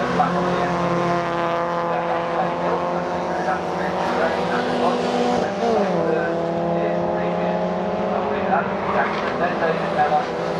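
Race cars in an MGOC Championship race at Oulton Park Island circuit, engines droning steadily with shifting pitch as cars lap, a commentator talking over the continuous motor noise throughout.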